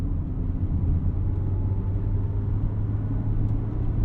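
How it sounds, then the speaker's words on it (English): Steady, loud low drone from a 1999 Honda Civic Si with its B16 engine while driving, a continuous in-cabin rumble with an even hum and no breaks. "This B16 engine is pumping out a healthy 160 horsepower"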